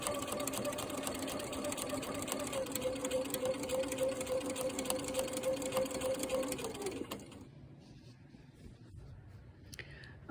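A sewing machine stitches binding onto a quilt top, humming in a steady continuous run for about seven seconds before stopping, leaving quieter handling noise behind.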